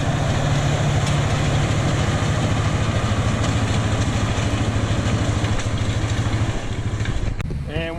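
A tractor pulls a soil packer across a seed bed, its engine droning loud and steady at close range for the whole stretch, with a faint clatter near the end.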